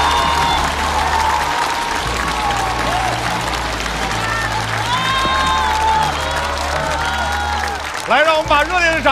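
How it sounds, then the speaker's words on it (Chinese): A studio audience at a stand-up comedy versus hip-hop show applauds four rappers with loud, sustained clapping and crowd noise, and a voice rises over it at the very end. "让我们把热烈的掌声送给4位优秀的 rapper"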